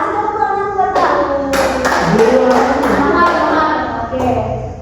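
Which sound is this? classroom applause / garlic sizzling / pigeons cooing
classroom applause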